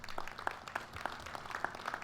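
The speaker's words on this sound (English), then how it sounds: "Let's give our special dignitary guest another round of applause." Scattered, faint applause for a dignitary guest at the opening ceremonies of the Choctaw Indian Fair, distant claps in a loose rhythm with crowd noise beneath.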